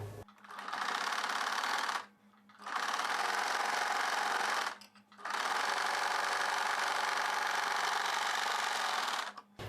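A sewing machine runs a line of topstitching on a boat neck cross cut blouse in three bursts of close, steady whirring separated by two brief pauses.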